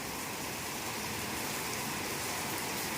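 Heavy rain pouring down in a dense, unbroken hiss, loud and close throughout, with no talking.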